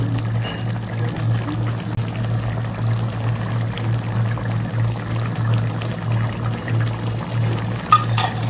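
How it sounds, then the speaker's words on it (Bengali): Ghee and garam masala poured into a simmering paneer curry in a home kitchen, a soft steady pouring and bubbling over a constant low hum, with no voices. "এবার আমি দিয়ে দেবো গরম মশলা আর দিয়ে দেবো একটু ঘি"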